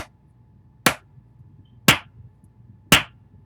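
Three loud, isolated claps spaced about a second apart, each a sharp crack with nothing between them but a faint hum, sounding like a dropped-in sound effect.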